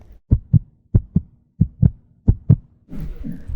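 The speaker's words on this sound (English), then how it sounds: "When this hormone is produced, our heartbeat starts to increase." A strong, close heartbeat thumping in regular lub-dub pairs, four beats in a steady rhythm, followed by a brief burst of muffled noise.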